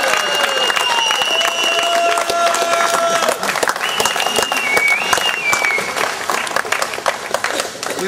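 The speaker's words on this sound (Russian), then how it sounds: "Дружные аплодисменты." An audience at a rowing regatta award ceremony in Tiraspol, 2004, applauds in a loud, sustained burst of clapping for about eight seconds, with a few whistles and voices mixed in.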